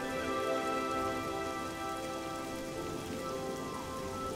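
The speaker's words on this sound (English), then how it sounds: "Didn't stop it from raining though" Steady rain patters on surfaces in The Elder Scrolls IV: Oblivion, an even, continuous hiss of drops that stays at the same loudness throughout, with no voices.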